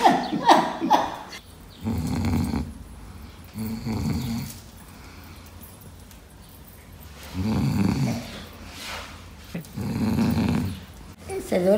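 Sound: person snoring

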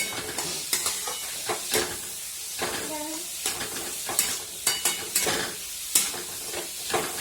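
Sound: onions sautéing in a pan for kanda poha

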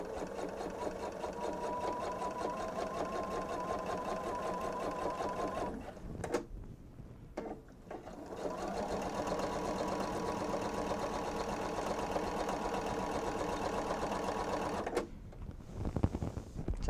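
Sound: sewing machine stitching in the ditch of bench pillow fabric

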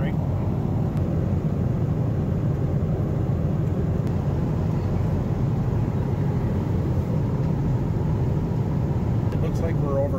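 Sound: airplane cabin noise on a transatlantic American Airlines flight

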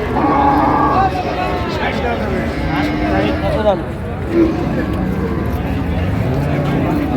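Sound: cow mooing at cattle market

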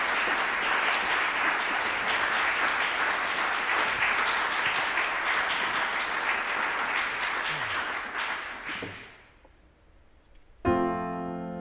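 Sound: audience applause welcoming a singer

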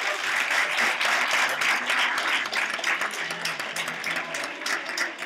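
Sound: applause

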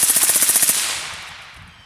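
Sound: suppressed CZ 805 Bren rifle burst, Thompson Machine 30Ti

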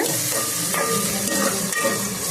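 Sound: onions frying in a pan for prawn curry

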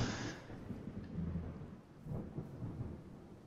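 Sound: thunder in the video game Minecraft

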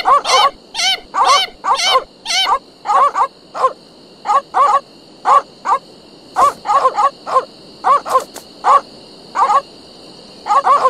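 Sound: piranha poodles barking in The Secret of Monkey Island video game

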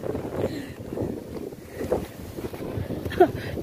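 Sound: strong wind

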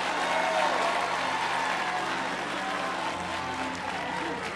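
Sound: congregation clapping and shouting

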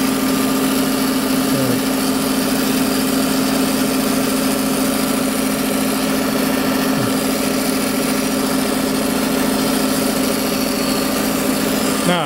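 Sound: bandsaw running with a 3/4 inch blade

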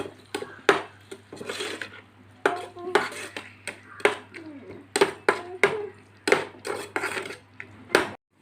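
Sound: sautéing fried potato dish in pan, stirring

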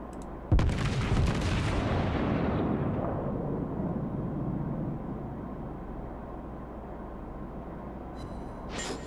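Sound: battleship main gun shots in World of Warships video game

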